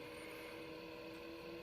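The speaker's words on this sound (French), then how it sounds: "vous allez entendre mon PC en fond qui fait un bruit pas possible." Steady whirring hum of a home PC's cooling fan, loud enough to call for replacing the computer, runs unbroken and close by with a tonal drone, no one speaking.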